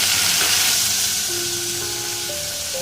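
Frozen peas tumble into a pan with potatoes and fry with a loud, dense, continuous sizzle close up for a home-style saaru.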